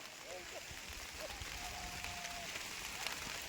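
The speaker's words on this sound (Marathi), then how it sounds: "वरतं तर लय पाऊस आहे बाबा" Heavy rain gives a steady, dense hiss throughout, with a voice speaking briefly over it.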